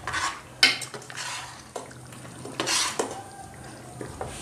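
Spinach and masala being stirred in a cooking pot for chicken palak kofta, with scraping spoon-on-metal clinks and soft stirring swishes in irregular bursts, close and moderately quiet.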